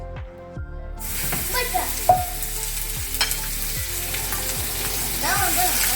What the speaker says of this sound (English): I'm gonna place my ground beef into the pan.